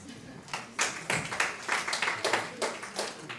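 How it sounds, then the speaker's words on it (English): A small group claps in a mock Security Council session after a draft resolution passes, with uneven, moderately close hand claps building briefly and thinning out, fairly quiet. "So clapping is in order."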